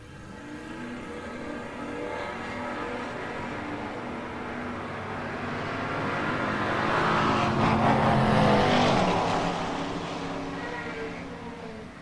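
Mopar drag race cars, including a Dart, at the No-Box 660 Shootout roar down the track, the engine noise swelling to a peak and then fading as they pass at a distance.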